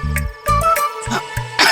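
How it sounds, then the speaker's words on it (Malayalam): Several short, harsh coughs come one after another, close and fairly loud, with brief pauses between the bursts. "നിനക്ക് നല്ല ചുമയുണ്ട് കേട്ടാ"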